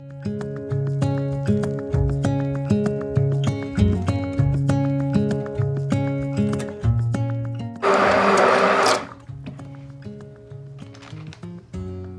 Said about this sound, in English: Blending is such a huge part of soap making.